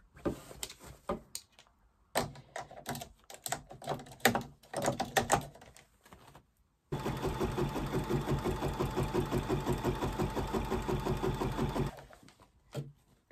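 Sewing machine stitching Halloween place mats, first in short start-stop bursts, then running steadily for several seconds at a fast, even rhythm before stopping. No one talks.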